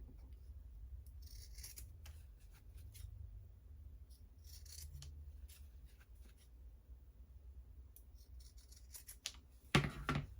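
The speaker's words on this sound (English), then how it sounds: "Now we're going to just clip off the corners, making sure we don't cut into our stitches." Scissors snip the corners of sewn fabric in short, quiet bursts of clipping and rubbing, with a louder sharp snip near the end.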